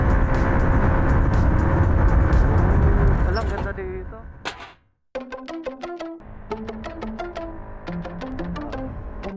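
A heavy truck rumbles past on a road, loud and close, its engine roar building then fading away, followed by a motorcycle ride with sharp, repeated knocks and rattles over a rough, bumpy surface.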